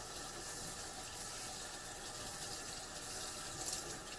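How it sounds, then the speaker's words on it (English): Warm tap water runs into a canister, a steady, soft hiss and gurgle of filling liquid that continues evenly without speech. "So we'll go ahead and start filling our canister"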